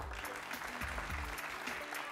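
A television game-show studio audience applauds, a steady, dense wash of clapping that carries on throughout while a voice talks underneath.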